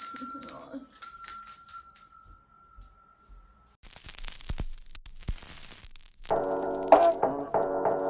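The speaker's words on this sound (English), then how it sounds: "But like it's a bell." A bell rings out in a quick series of bright, sustained tones at the start, followed by a stretch of quiet rustling and knocking, then a dense burst of ringing tones near the end.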